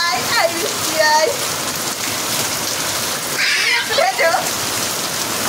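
Rain falling outdoors, a steady dense patter of drops on surfaces throughout, with a voice and an adult's voice talking and calling over it at moderate distance.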